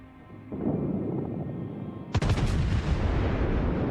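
HMS Nelson battleship in World of Warships fires a loud booming main-gun salvo that cuts in sharply over a steady low engine rumble, then rolls into sustained heavy rumbling.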